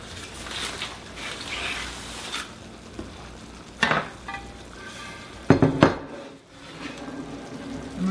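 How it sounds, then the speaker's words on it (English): Pan moved across a kitchen counter amid tortilla-bake cooking, a few sharp metallic scrapes and clanks near the middle, close and loud over a steady faint sizzling background. "Let me see if I can get this pan over here."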